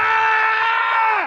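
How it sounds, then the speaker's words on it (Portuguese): A Lord of the Rings actor lets out one long, loud, sustained scream of pain after breaking his toe, a steady strained tone held for over a second before it cuts off abruptly. "esse grito que vocês veem na cena é realmente um grito de dor do momento que ele tinha acabado de quebrar o seu"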